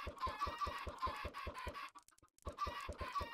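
Minecraft chickens cluck in quick, rhythmic bursts of short repeated notes, close and fairly quiet, pausing briefly before the clucking resumes.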